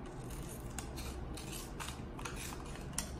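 Scissors snip through the middle of a plastic bottle, a series of crisp cutting strokes close up against a faint background hiss, with no talking.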